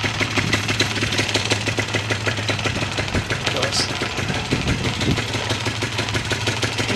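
A paramotor engine idles while warming up, a steady close, rapid knocking putter with a constant low hum, running evenly throughout with faint voices mixed underneath.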